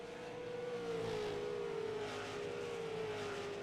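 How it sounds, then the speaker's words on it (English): Super late model race cars at USA International Speedway, a sustained engine drone that slowly shifts pitch as cars circle at a distance, steady and moderately loud with no voices. "Super late model action here at USA International Speedway"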